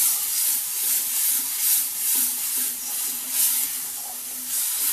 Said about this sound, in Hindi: थोड़ी देर मसाले को फ्राई करेंगे तेल में।